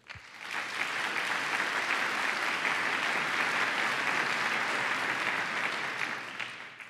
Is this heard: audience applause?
yes